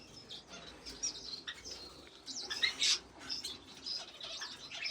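A Fife canary in a finch breeder's aviary gives high, bright chirps and short twittering bursts, moderately close, with faint background rustle and no talk.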